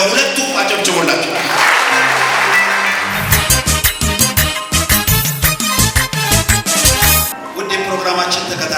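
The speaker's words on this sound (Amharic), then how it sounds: "ስለዚህ ለሁለቱም አጨብጭቡላቸው።" Audience at a special Easter family program in Dire Dawa breaks into loud, sustained applause mid-clip, dense rapid clapping after a stretch of crowd murmur and music, then tapering off.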